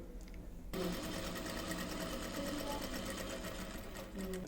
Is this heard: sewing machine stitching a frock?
yes